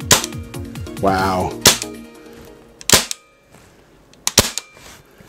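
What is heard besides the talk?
SRC CO-101 airsoft gun dry firing single shots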